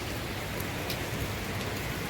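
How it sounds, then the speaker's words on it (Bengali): Steady rain falls through a morning, heard as a continuous, even hiss of drops with no breaks and no voices. "সকাল থেকে বৃষ্টি পড়ছে"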